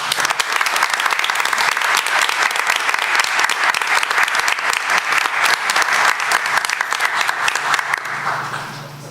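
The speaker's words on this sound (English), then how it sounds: "All members of city council are here to celebrate you and applaud you." A city council meeting audience breaks into loud, sustained applause, dense clapping that holds steady for several seconds before tapering slightly at the end, with no talk over it.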